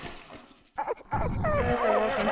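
A puppy whimpers in the video game Little Creepy, a few short whiny yelps and rising cries that come after a quieter stretch and stand out clearly against low background noise.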